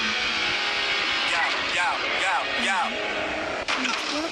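A car drives in the mobile beta of GTA 5, its engine whining and revving upward in several quick rising sweeps over a constant background of game sound.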